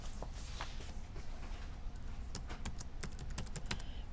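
Typing on a computer keyboard, faint and close, with sparse taps at first that turn into a quick cluster of clicky keystrokes.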